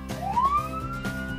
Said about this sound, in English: Police car helps police officers get to emergencies quickly and keep the community safe.